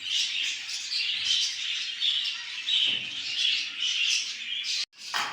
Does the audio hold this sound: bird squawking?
yes